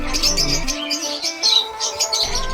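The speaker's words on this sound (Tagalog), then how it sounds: "At ito yung calling ng kanyang mga perso." Personata lovebirds in a breeder's aviary give a busy run of high, shrill chirps and squawks, loud and close, with overlapping calls throughout and no talk.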